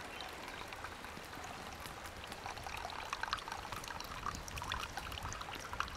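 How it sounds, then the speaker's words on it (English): Water pours steadily out of a pot of boiled nettles and hogweed stems as they are drained, a soft continuous splashing trickle heard close for several seconds, with no talk. "I'm going to drain the water from the nettles now so that we can chop these nettles up"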